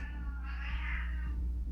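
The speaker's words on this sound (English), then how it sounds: "I really need help with these cats." Indoor cats give a single drawn-out meow over a low steady hum, close and moderately loud, with no talking.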